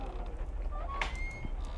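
Door creaking open in a horror video game, a single thin drawn-out creak that rises and holds briefly over a low background hum, fairly quiet and with no talking.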